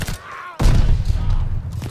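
PPSh submachine gun fire in Call of Duty Vanguard bursts in suddenly as a loud, rapid, booming stream of shots, following a brief quieter stretch of game sound.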